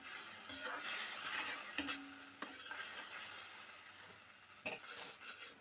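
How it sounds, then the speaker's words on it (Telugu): Tamarind juice with jaggery bubbling and simmering in a pan, a soft steady sizzle with occasional stirring scrapes and a clink of a utensil, close and fairly quiet. "ఇలా ఉడుకుతోంది కదండి చింతపండు రసం"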